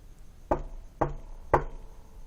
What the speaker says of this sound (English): The starving grasshopper knocked at the door.